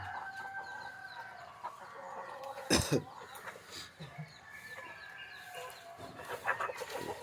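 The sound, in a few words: chickens clucking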